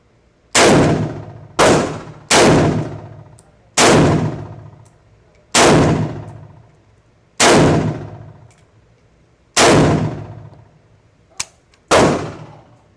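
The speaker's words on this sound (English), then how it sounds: "So I'm gonna continuously shoot the target where it actually is now." A Draco pistol fires at a target in a series of about nine loud, sharp reports at an irregular pace. Each shot rings with a metallic clang and is separated by near silence.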